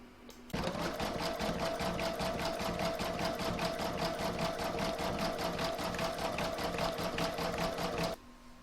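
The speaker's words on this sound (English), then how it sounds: "I'm now going to put this back into my machine and stitch round number 9, and that's the decorative satin stitch edging." Embroidery sewing machine stitching a decorative satin stitch edge on an in-the-hoop oven mitt: a loud, fast, even mechanical whir of rapid needle strokes that starts abruptly, runs steadily for about seven seconds, then stops.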